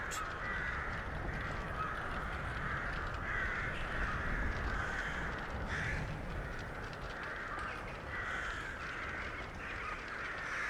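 Black crows from a modded video game caw repeatedly in a steady, continuous chorus of harsh calls over a dense, noisy background, loud and with no speech.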